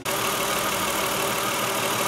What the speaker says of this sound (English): All right, so the car's running.